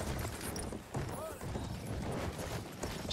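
Horses galloping in the Battlefield 1 video game, rapid clattering hoofbeats running continuously amid battle noise, with a brief whinny and voices talking over it.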